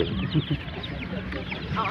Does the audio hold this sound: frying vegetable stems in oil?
no